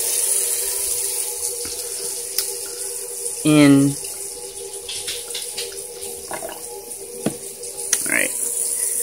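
Water runs from a kitchen tap as a diffuser is rinsed, a steady hiss of flow throughout while a person briefly speaks over it, with a few clinks and splashes.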